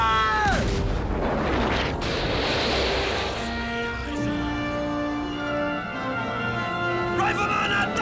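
A ship's Dahlgren cannon fires at sea, a deep booming blast followed by a rolling rumble of surf and battle noise, with tonal music and sound effects layered over it.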